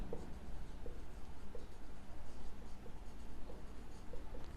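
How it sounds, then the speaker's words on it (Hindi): A pen writing an answer by hand on paper during a geometry lesson, giving soft continuous scratching with a few light taps over low room noise. "फिर भी मैं आपको लिख करके बताती हूँ"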